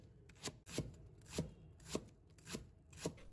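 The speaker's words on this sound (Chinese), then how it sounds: "把它切成薄片。" A kitchen knife slices a length of Chinese green onion into thin pieces on a cutting board, giving six evenly spaced, crisp chops, close and quiet, with no talking.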